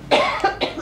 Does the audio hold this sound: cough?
yes